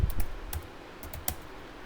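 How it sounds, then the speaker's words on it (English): Keystrokes on a computer keyboard while a Linux command is entered: a handful of crisp clicks come in quick bursts and then thin out, fairly close and moderately quiet, with no talking. "We will simply type here a2.txt"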